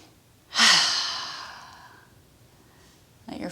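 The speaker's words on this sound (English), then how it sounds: "Breathe in and out" A single long, audible exhale during a yoga session, loud at first and then fading slowly, followed by the start of another breath.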